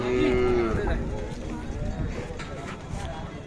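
A 15-month-old Khillar bull lets out a loud, drawn-out moo at the start at Sangola cattle market, followed by muffled voices and rustling farmyard noise.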